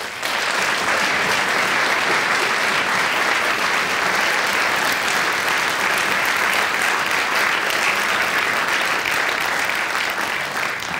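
Sustained applause from an audience honoring a folk ensemble at a regional awards event, steady and dense clapping filling the whole stretch without a break.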